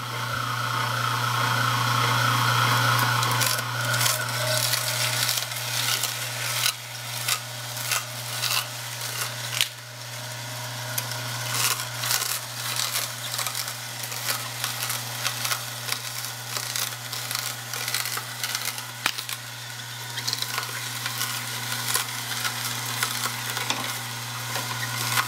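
Celery being run through a juicer: a steady loud motor whine with a strong low hum holds throughout, with grinding, crunching pulses on top as stalks are pressed in, and no talking.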